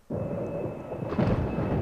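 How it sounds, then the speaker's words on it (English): Winter thunder in the video game Remember11: a loud, deep rumble bursts in abruptly and rolls on steadily, swelling into a heavier crack partway through, with no voices. "The sound of the winter thunder shook my body to its core."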